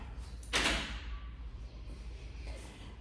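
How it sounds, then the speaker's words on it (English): An elevator door in an apartment building in Siracusa, Sicily, slides with one loud whoosh and thud near the start, then a low hum and faint room noise follow. "we're going to take the elevator up."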